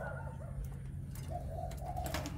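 A moulting turtle dove coos softly several times in a low rhythmic series, heard faint over steady background hum with a few clicks.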